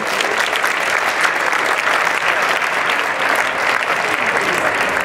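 Sustained, even applause from a crowd at a sports club's Christmas party, welcoming the club's technical director as he enters; steady, full clapping throughout with no break.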